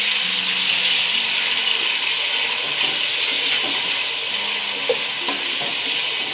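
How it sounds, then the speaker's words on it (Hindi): Ginger garlic paste sizzles in hot oil for a potato and eggplant curry, a loud continuous hissing fry with a few faint stirring clicks, no talking. "ऑयल गर्म हो चुका, बस मैं अदरक लहसुन का पेस्ट ऐड कर रही हूँ"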